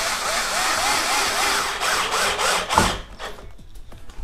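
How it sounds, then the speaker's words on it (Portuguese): Screws are driven into a wooden door hinge with a power tool, giving a loud continuous whirring grind for about three seconds that ends with a few short bursts and rattles, close up. "vamos colocar os parafusos, ó."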